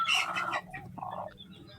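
A desi village hen gives a short run of clucks, close and fairly loud, then a softer throaty cluck as the sound trails off.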